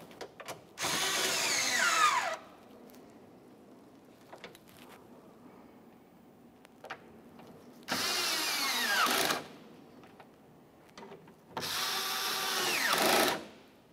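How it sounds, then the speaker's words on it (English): Power drill snugging the mounting nuts of a 2011-2021 Jeep Grand Cherokee inner tail light on the lift gate, three close whirring bursts of about a second and a half each, separated by quiet pauses with faint handling clicks. "Let's go ahead and snug it up, starting with the inboard mounting nuts."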